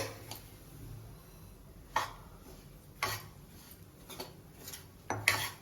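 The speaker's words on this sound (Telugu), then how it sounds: "తిప్పుకుంటా ఇట్లా నాలుగు పక్కలు తిప్పుతా మనం ఫ్రై చేసుకోవాలి" A spoon scrapes and taps against a pan as semolina is stirred and roasted over low heat for jaggery rava laddu, with several sharp clinks at irregular intervals over a faint background hum.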